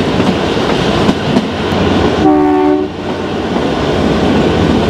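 Kalka-Shimla toy train rumbling steadily along the mountain rails, with a short multi-tone horn blast sounding near the middle over the continuous running noise.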